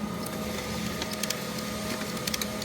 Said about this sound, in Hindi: हम रुकैया के लिए प्रिंट कर रहे हैं यहाँ से ये।